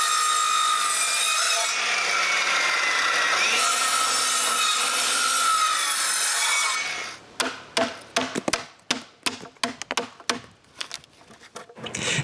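A hand saw cuts through wood for a firewood shed, first in a long steady rasping stretch, then giving way to a series of sharp, irregular knocks and taps of wood being handled or struck nearby.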